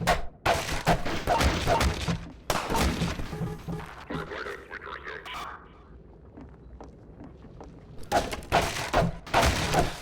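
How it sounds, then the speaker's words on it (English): Combine soldiers fire from a balcony in Half-Life 2: Episode Two, rapid bursts of close, punchy gunshots in clusters with a quieter lull mid-way, mixed with game sounds and someone talking over it. "now they're shooting at us from the balcony we jumped down off of"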